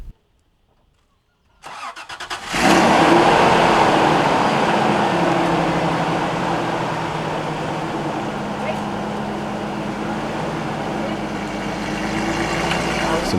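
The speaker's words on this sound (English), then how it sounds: "every time we spun the tires, we sunk a little bit deeper" A 4x4 truck, bogged down and stuck on a lakebed in El Salvador, roars to life after a moment of silence, then runs loud and steady with a rough, churning drone.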